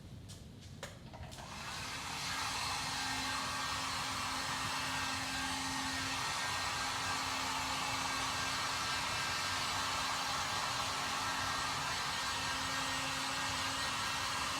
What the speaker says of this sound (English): I'm gonna dry it a little bit with the heat gun to speed things up